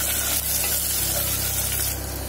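Chopped ingredients for mutton haleem sizzle loudly in a pan, frying hard while being mixed, with a low hum beneath the steady crackle.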